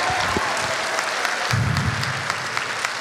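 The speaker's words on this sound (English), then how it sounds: "Can I have a round of applause for my seniors?" Dense audience applause honoring graduating seniors at a school choir concert, a loud, continuous roar of clapping with a few low rumbles and thumps mixed in.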